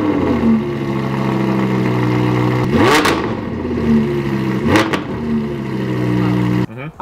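A 2017 Audi R8 with an FI exhaust revs hard twice in sharp, loud bursts over a steady idle, then cuts off abruptly near the end.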